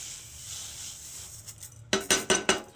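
Sesame seeds spill into hot sugar syrup in a pan for Bengali til naru, a soft rustle followed by four quick, bright clinking scrapes against the metal.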